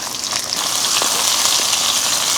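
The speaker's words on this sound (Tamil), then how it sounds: "வெங்காயம் வந்து நல்லா வதங்கிடுச்சுங்க" Sliced onion, dried red chillies and curry leaves sizzle steadily in hot oil with mustard seeds and urad dal for eggplant tamarind thokku, a continuous close frying hiss with no voices.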